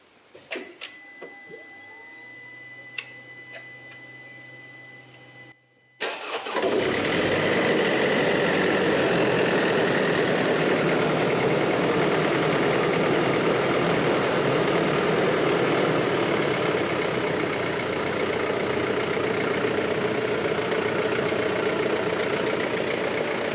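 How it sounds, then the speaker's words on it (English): A few clicks and a low hum precede a brief pause, then a car engine turns over and settles into a loud, steady idle after a thermostat and coolant temperature sensor repair. "We are feeling brave and starting up the engine."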